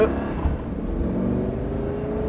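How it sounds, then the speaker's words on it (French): A Lamborghini Gallardo's engine drones loud and steady as it pulls away on the Nogaro circuit, with layered harmonic tones that hold and climb slightly under acceleration, and no voices over it. "C'est parti Stéphane pour 8 tours en Lamborghini Gallardo"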